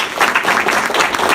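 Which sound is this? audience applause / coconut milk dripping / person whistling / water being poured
audience applause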